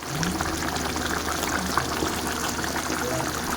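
Coconut milk (gata) with sigarilyas (winged beans) bubbling in an uncovered pot, a steady close simmering hiss with soft popping throughout.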